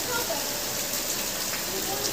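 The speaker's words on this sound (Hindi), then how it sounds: "आप देख सकते हैं कि बाहर बहुत बारिश हो रही है" Heavy rain falls steadily outside during a monsoon day in Karnataka, a faint, even hiss of drops with no breaks throughout.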